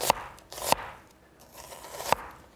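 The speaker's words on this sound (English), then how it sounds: "As you get to the end and the onion starts to look a little wobbly, you can flip it over. Just slice like that." A knife slices through an onion on a cutting board, giving three sharp, close taps spaced unevenly with soft cutting noise between them. The sound is faint overall.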